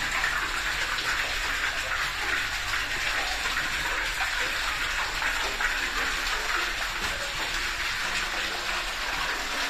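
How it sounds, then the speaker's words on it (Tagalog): Loud, constant rushing water flowing strongly in a deep shaft about 36 meters down, a dense roaring gush that fills the space without letup, no talking. "ganito kalakas yung tubig dito, kaya winapump"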